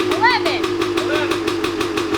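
An old dirt bike engine, running rich and already off the choke, idles with a steady, close, low rhythmic throb while someone talks over it.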